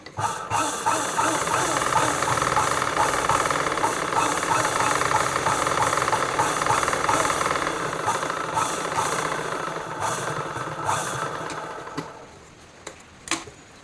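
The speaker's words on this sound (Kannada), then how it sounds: "ಇನ್ನೊಂದು ಸ್ಟಿಚ್ ಇದೆ ಥರ ಹಾಕ್ಕೊಳ್ಬೇಕು" A sewing machine runs continuously, stitching around a readymade nightie: a fast, steady mechanical whirr and knock close by that slows and stops near the end, with a voice talking over it.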